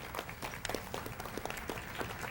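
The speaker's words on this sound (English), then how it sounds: "I join you in giving him a huge round of applause." Applause at a sports Hall of Fame induction ceremony, honoring a sports writer; a steady wash of many hands clapping, fairly distant and moderately quiet, continuing without pause.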